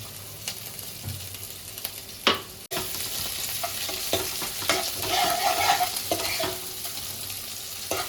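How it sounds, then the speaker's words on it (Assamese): Garlic and ginger fry in a pan for a goat meat curry, a steady broadband sizzle with stirring scrapes and a sharp clatter near the start, continuous and close throughout. "এইখিনি অলপমান ব্ৰাউন হোৱালৈকে আমি ভাজিম।"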